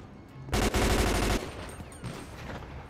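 A loud, close burst of automatic gunfire in a GTA 5 gang shootout lasts under a second, then scattered fainter shots echo in the background before one more sharp report at the end.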